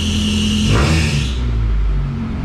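A Honda Civic engine revs once, a brief rising surge that falls back to a steady idle hum, close and fairly loud.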